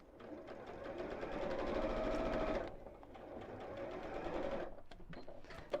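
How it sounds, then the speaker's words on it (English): A sewing machine stitching around the top of a fabric water bottle carrier, running in two steady whirring bursts with a brief slowdown between them, close up and without talking. "just sewing around the top, lining up the edges"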